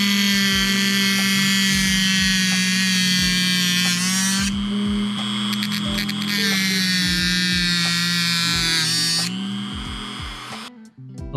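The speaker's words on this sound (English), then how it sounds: "I'm going to use a thin cutting disc on a Dremel." A Dremel rotary tool fitted with a thin cutting disc slices through N scale model railway track, a loud steady high whine holding for several seconds, dipping briefly near the middle, then cutting off near the end.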